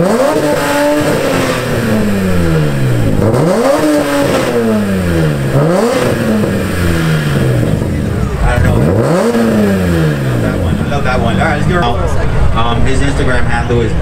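BMW car with a Megan Racing header, stock mid-pipe and Vibrant rear exhaust, revved repeatedly at a car meet, the engine note climbing and dropping in loud, close sweeps, with crowd chatter underneath.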